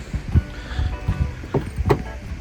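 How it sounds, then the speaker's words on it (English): Ram truck bumper scrubbing a fender flare while the body is raised for a 1.5-inch body lift, irregular creaking, rubbing groans and thumps at close range, no voices. "That noise you're hearing is my bumper just scrubbing that fender flare."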